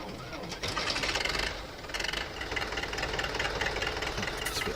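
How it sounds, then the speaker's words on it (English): A tractor engine in Farming Simulator 17 runs loud and steady with a knocking, rattling drone that swells and dips slightly over a few seconds, heard alone. "it's a bit loud, that tractor."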